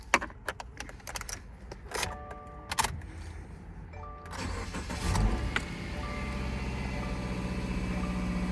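The 2.5i boxer engine of a 2015 Subaru Outback 2.5i Premium starts after some clicks and key jangles, with chimes and a brief cranking whir giving way to a steady, smooth idle close by.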